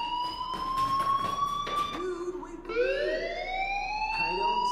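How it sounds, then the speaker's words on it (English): Fire alarm ringing inside the Life is Strange Remastered video game: a loud, steady wailing tone that rises and falls in pitch, sounding continuously with a brief dip partway through. "Hey, do you hear that fire alarm?"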